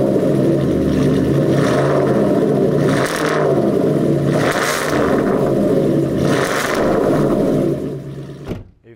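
An Aston Martin Vantage GT8 with a six-speed manual revs hard in repeated loud, close bursts, the engine flaring and falling several times before cutting off sharply at the end.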